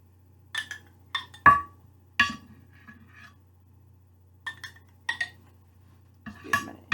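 A spoon scoops chicken lasagna filling and layers it along the bottom of a simple 13 by 5 lasagna pan, giving scattered light clinks and taps close by, with quiet pauses between the strokes.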